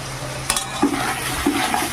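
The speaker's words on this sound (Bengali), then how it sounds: "এবার আমি মশলাটাকে খুব ভালো করে কষিয়ে নেব" Spice paste for a rui fish curry frying on low flame, the spoon scraping and stirring in a couple of firm strokes over a constant loud sizzle of oil.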